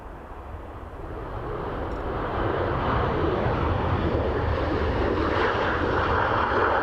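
An aircraft lands at Dublin Airport as tire smoke drifts across the airfield, a jet roar building from moderate to loud and then holding strong and close, with no talk over it.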